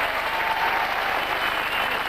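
A game show studio audience bursts into sustained, loud applause, an even roar of many hands clapping with little else audible.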